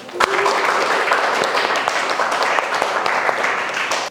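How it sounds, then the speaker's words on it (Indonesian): Students in a classroom clap together at the end of a lesson, producing a brief, dense burst of applause that carries on steadily for a few seconds. "Kasih aplaus."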